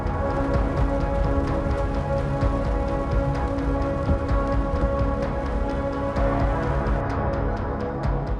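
A heavy monsoon downpour in Mumbai hammers steadily on surfaces, a loud, unbroken roar of rain with dense spatters of drops throughout and no one speaking.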